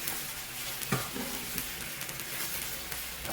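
Sauce for sweet and sour pork bubbles and sizzles steadily in a pan, a dense, continuous hiss with faint stirring clinks, moderately quiet and without voices.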